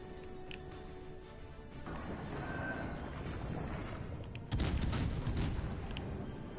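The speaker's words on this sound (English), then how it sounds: "did I just shoot them all in one spot?" Video game gunfire: a quiet stretch of scattered shots grows into a busier exchange, then a louder burst of rapid shots near the end, all fairly faint overall with no talking.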